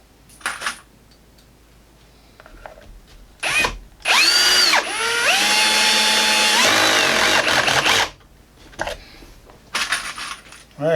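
A power drill with its clutch driving screws into a zig zag shelf, a loud whirring run of a few seconds that ends in clutch ratcheting, with short bursts and clinks of handling before and after.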